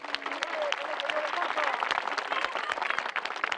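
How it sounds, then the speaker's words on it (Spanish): An audience applauds a prize winner with dense, steady clapping that fills the space, while a voice briefly speaks over it at the start. "¡Un aplauso para ella!"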